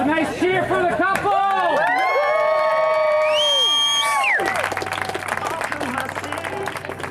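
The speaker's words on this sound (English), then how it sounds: "Let's have a nice cheer for the couple!" Wedding guests at a ceremony whoop and shout with rising, excited voices for the newly married couple, then break into loud clapping and crowd cheering that continues to the end.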